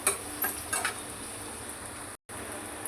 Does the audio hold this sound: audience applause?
no